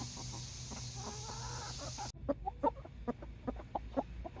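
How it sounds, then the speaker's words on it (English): A broody hen clucks in short, repeated bursts, close and fairly loud, with a steady background hum in the first half that cuts out partway through. "Broody sounds."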